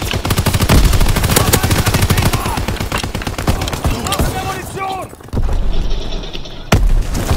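Rapid gunfire in Call of Duty WW2, dense bursts of automatic shots crackling loudly and close, with a brief lull and then more firing, mixed with game voices and effects.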